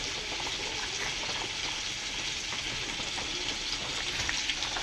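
Crab curry sizzles and fries steadily in a pan, a continuous bright crackling hiss with faint bubbling, alone and without talk.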